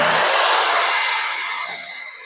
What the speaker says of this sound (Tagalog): Try natin guys yung blower nito.